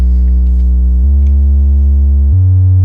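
Pure sine wave from an STO oscillator in a Eurorack modular synthesizer, a loud steady tone stepping through three sustained pitches.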